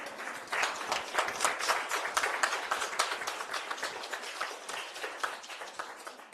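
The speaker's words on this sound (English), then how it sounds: "Maybe we can all rise and give a hand of applause," A standing audience at a Miss Namibia and Miss Teen launch event gives a sustained ovation, with crisp, closely packed handclaps that stay energetic throughout and fade slightly near the end.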